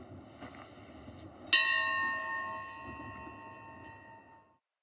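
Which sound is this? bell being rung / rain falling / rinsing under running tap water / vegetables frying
bell being rung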